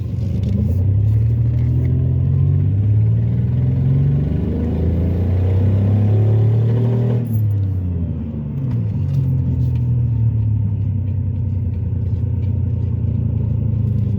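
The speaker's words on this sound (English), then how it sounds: "That shop got my car got my Taurus sounding like a diesel." A Ford Taurus engine running rough with a deep, clattering diesel-like rumble, loud and close, rising and falling in pitch as it revs, with a brief dip midway before continuing.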